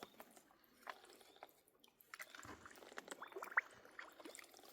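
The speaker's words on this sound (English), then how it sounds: "It's bubbling." Boggy water bubbling at the top of a hill in Coromandel Forest, heard as soft wet pops and gurgles that grow busier toward the end, close by and quiet, with no talking.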